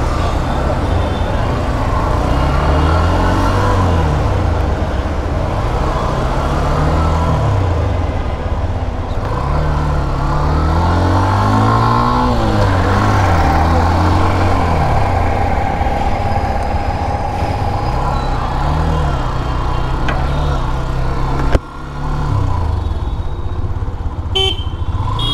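A Hero Xtreme 125R 125cc motorcycle engine hums steadily on a test ride, rising and falling with gear changes and throttle, under wind and road noise, with faint distant traffic.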